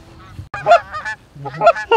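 Geese honk loudly in two clustered bursts while flushed during waterfowl hunting, several overlapping calls close by, separated by a brief pause.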